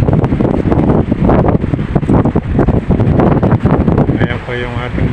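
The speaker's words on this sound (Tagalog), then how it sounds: "madalas na pong lumakas yung mga alon." Strong wind buffets the microphone at a fish port in Samar, with rough sea waves behind it. The gusty, roaring rumble stays loud throughout, while a voice speaks over it.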